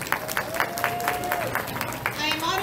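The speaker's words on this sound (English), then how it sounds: "Please give a round of applause for our mayor and your assembly person" A crowd at a Hmong New Year gathering in Merced County claps for the mayor, a brief burst of steady rhythmic applause with voices carrying faintly beneath it.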